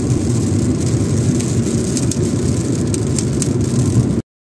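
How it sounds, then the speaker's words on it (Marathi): Heavy monsoon rain drums steadily on a car driving along a new road in Mumbai, a dense continuous roar with engine rumble underneath, loud and unbroken until it cuts off abruptly near the end. "फायनली आम्हाला पाऊस मिळालाय, तो पण मुंबईत आल्यानंतर."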